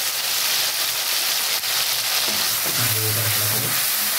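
Tomato paste and ginger sautéing in a pan for a Bengali boal fish curry, a continuous loud sizzle with stirring scrapes and a brief low murmur toward the end.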